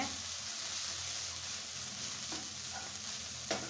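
Leafy greens fry with grated coconut in a pan, giving a steady, soft sizzle with occasional stirring scrapes and no voices.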